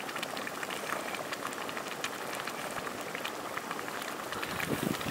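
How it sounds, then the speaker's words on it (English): A tiny mineral spring bubbles just off a path in Seltun, giving a steady close gurgling and fizzing wash that runs continuously and swells slightly toward the end, with no voices. "bubbling spring."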